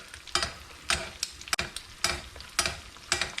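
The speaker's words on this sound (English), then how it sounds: "basting in a skillet like this is one of these things that I feel like happens in a restaurant a lot" Eggs basted in a hot skillet at home, sizzling steadily while hot fat is spooned over them in rhythmic splashing bursts about every half second, close and moderately loud with no talking.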